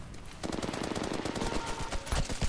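Rapid automatic gunfire in a tactical shooter video game, a dense, continuous burst of close, loud shots lasting a couple of seconds.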